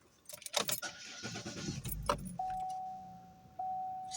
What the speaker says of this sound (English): So let's start the car and see how it sounds.